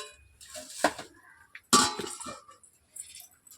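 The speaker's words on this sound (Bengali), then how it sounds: "ঢাকনা দিয়ে ঢেকে দিলাম।" A metal lid clinks down onto a cooking pot of simmering fish curry, giving two or three close, bright clatters with soft kitchen handling sounds between them.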